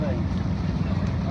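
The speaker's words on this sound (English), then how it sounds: "we needed to take a boat across the river" Steady low engine drone and water wash of a boat crossing a river in Myanmar, loud and continuous with wind noise.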